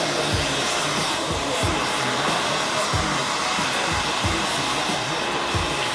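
A hair dryer blows hair dry with a loud, continuous, close whooshing roar, steady throughout, with faint rhythmic fluttering from the airflow moving through hair. No one speaks.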